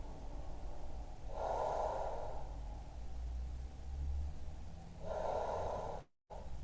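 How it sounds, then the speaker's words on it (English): Two long audible inhalations during a stretch and mobility class, each lasting about a second, heard close against steady background noise with a low hum. "Breathing in."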